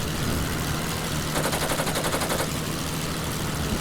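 Machine-gun bursts in the World War I flight game Wings Over Flanders Fields: a rapid rattle of fire over a steady aircraft engine drone, strongest in a burst of about a second midway, with no talking.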